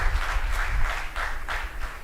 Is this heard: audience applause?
yes